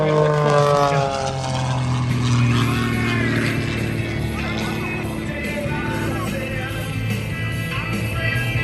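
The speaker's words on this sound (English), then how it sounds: "Let's sit back and watch as Nathan twists and turns the Ghost Rider across the sky" An aerobatic stunt airplane with a smoke system twists and rolls across the sky at the Lake Cumberland air show, its engine a steady, loud droning hum that swells and shifts in pitch throughout.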